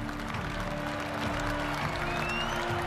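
A jubilant crowd cheers and applauds outside the White House, a dense, continuous patter of clapping with a faint background murmur.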